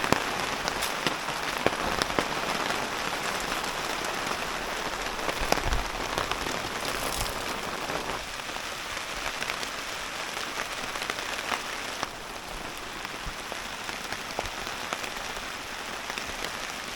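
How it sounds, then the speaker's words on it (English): Heavy rain patters steadily on the roof of a homemade wall tent during a torrential storm, a dense, even hiss of drops with scattered sharper taps and no voices. "Looks like we got about an hour left of this rain"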